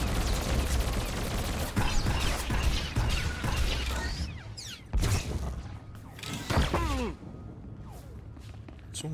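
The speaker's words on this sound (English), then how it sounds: "Someone was shooting me in the back." Gunfire crackles in a Star Wars: The Old Republic battle against rebel forces: busy, loud shooting and impacts early on, then sparser sharp blasts with falling whistling tones as the fight thins out.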